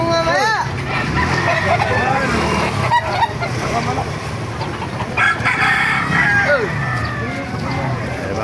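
Chickens and roosters crowd a poultry market in Baliuag, Bulacan, with repeated nearby crowing and clucking mixing with honk-like calls, while people talk loudly throughout.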